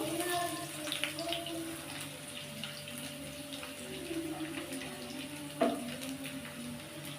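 Finely chopped garlic sizzles in a pan while a chicken masala curry is being made, a steady, faint frying hiss that runs throughout at low volume.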